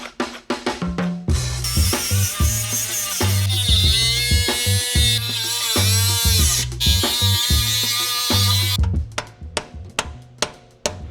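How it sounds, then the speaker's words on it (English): A small angle grinder bites into metal on a supercharged V8 box truck, giving a loud, high whine that surges and wavers for several seconds, framed by short clanks and knocks before and after. "just try and get our small grinder up there"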